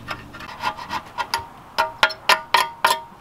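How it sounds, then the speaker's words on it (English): Metal tool scraping old gasket material off a Toyota Camry 2AZFE engine part, a series of short, sharp rasping strokes that become more evenly spaced and louder toward the end, close up with no talk. "So we're just trying to scrape this and then we're going to clean it up before we install it."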